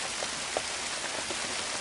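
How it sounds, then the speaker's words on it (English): Heavy rain pours down steadily, a dense even hiss of drops drumming on surfaces with occasional louder splats, no voices. "it's a wet one, pouring down rain"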